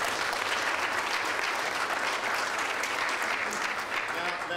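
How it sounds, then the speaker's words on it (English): Sustained applause from a conference audience, a dense even wash of clapping at steady loudness from start to finish, with no voice clearly on top. "All right, give them a round of applause."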